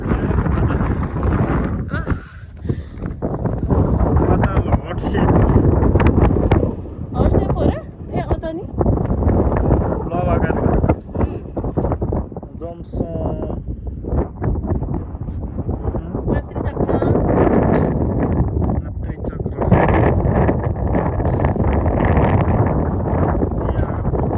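Strong gusty wind buffeting the microphone on the road to the tower in Mustang, a loud roaring rumble that rises and falls, with people talking through it.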